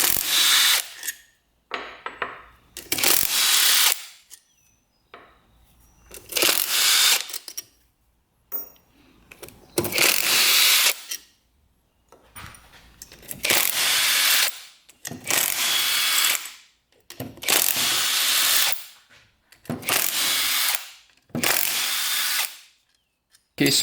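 Power tool bursts remove the bolts holding a dirt bike's engine cases together, about eight loud whirring runs of one to two seconds each, separated by short pauses with faint clinks of handling.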